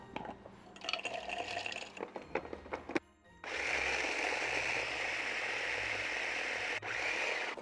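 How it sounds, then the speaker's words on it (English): An electric grinder blitzes almonds into ground almonds for almond croissants: a few light clinks and knocks, then a loud, steady, close whirring roar that runs on without a break. "You just take some almonds and grind them up."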